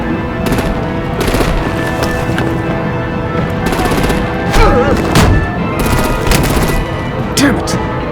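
Video game battle from Batman: The Enemy Within, with dense bursts of gunfire and heavy booming artillery, loud and continuous, crackling rapid shots layered over rumbling blasts.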